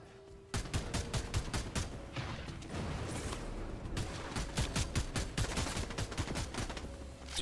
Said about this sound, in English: He's shooting that.